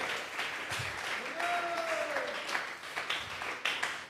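Church congregation applauding together as an offering of praise, a steady wash of many hands clapping at moderate distance with a brief sung or spoken tone drifting through the middle.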